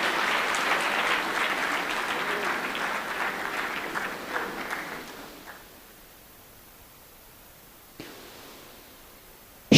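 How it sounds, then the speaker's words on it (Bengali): An audience at an award ceremony claps loudly and steadily. The applause fades out after about five seconds into near silence, broken by a single faint knock. "সবাই একটু জোরে করতালি দিয়ে"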